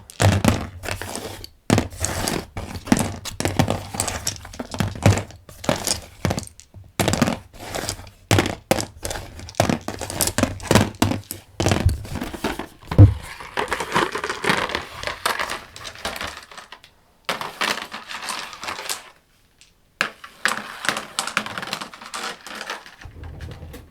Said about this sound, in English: I'm gonna do a little more dice rolling without talking